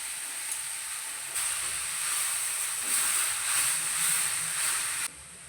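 Grated coconut fries in a hot pan for a head-mutton sambar, giving a steady bright sizzle and hiss that swells slightly when more is stirred in, then cuts off abruptly near the end.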